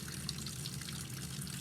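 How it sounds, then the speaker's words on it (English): Cold water runs continuously over black-and-white photo prints in a darkroom wash, making a steady, even gush and trickle that holds throughout with no voices. "continuous stream of cold water that runs over the pictures"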